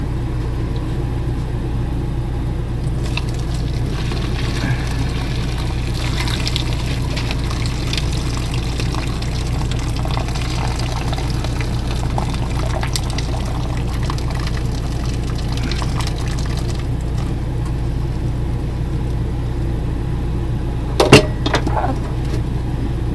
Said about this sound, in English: let me drain this water out of the noodles real quick